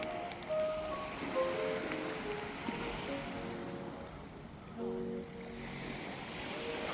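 Ocean waves wash against the rocks below a cliff on Ibiza, a continuous rolling surf with wind blowing across the microphone, swelling and easing at moderate distance.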